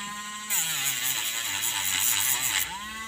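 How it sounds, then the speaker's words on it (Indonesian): An angle grinder whines as it scrapes clean a lithium battery terminal, a loud buzzing burst of about two seconds with shifting pitch, starting and stopping abruptly over quieter motor hum. "saya akan gesek atau bersihkan menggunakan gerinda ini"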